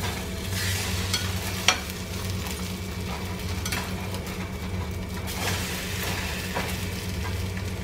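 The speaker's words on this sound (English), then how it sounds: "French toast does not take long to cook." French toast fries in a hot pan with a steady, close sizzle and crackle that holds evenly throughout, with a couple of brief utensil clicks and no talking.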